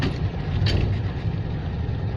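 Steady engine rumble and road noise of a Citroën 2CV driving slowly past the main arena at a car meeting, heard from inside the car, continuous and moderately loud.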